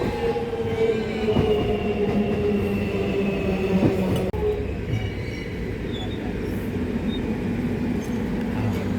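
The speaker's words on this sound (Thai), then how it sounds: "รถไฟมาแล้วเนาะเฮาสิได้ขึ้นรถไฟ" A train in Melbourne, Australia rumbles steadily close by, a continuous low mechanical roar with faint metallic squeals, pulling into a station.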